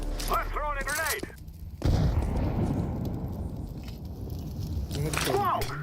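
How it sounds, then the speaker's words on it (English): A grenade goes off in the video game CS2 with a sudden heavy blast followed by a long rumbling, crackling decay, while a voice talks just before and again right after. "I'm throwing a grenade."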